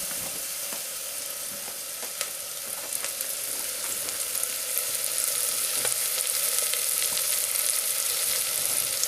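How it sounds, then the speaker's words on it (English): Butter melts in a pan with a steady, bright sizzle, while a wooden spoon stirs it with scattered light scrapes and taps. The sound is close and even, with no voices. "give it a stir till the butter has melted"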